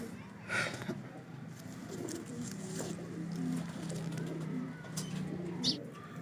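Soft, low pigeon cooing repeats in a steady murmur at close range, with a few brief rustles and faint background noise.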